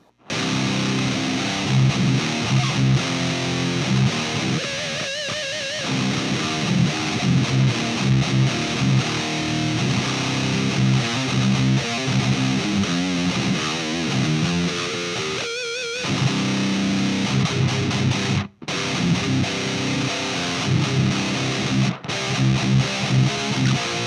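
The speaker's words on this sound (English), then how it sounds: "let's hear it with the PV distortion" An electric guitar plays through the PV distortion mode of an Ibanez PT5 pedal, giving a continuous crispy, bright, saturated tone with sustained chords and riffs and a couple of brief dropouts.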